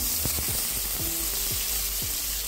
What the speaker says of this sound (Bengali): রাঁধুনিটা 30 সেকেন্ড একটু ভেজে নিয়ে এবার দিয়ে দিচ্ছি কেটে রাখা আলু